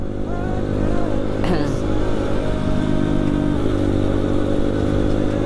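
Motorcycle engine revved hard, a steady loud drone with rising throttle bursts and some clatter, with people talking over it throughout.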